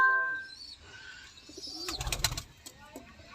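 Pigeons offered for sale, with a soft cooing call and faint chirps early on, then a burst of close rustling and wing flutter, all fairly near and without speech.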